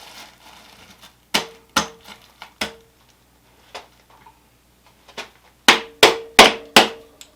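A hammer drives an intake manifold into place on a small-block 350 engine, sharp metallic blows that ring close and loud, a few spaced strikes, then a quick run of heavy hits at the end.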